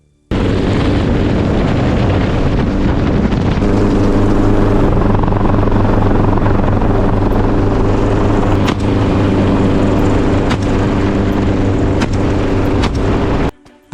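Helicopter flying on a Texas feral hog hunt, a loud continuous rotor and engine roar close by for the whole stretch, with a few sharp bangs near the end that may be gunshots.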